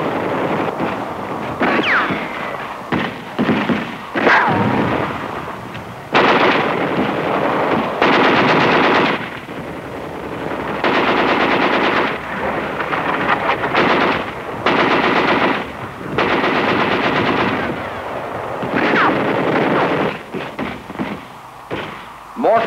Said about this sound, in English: they encountered wire, mines, and automatic fire from pillboxes.